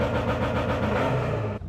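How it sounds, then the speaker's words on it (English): A Ford Escort Mk2 engine runs loud and close in a steady high-revving drone with a rough, throbbing exhaust note, cutting off abruptly at the end. "So I'll just fire the engine back up and show you the launch working."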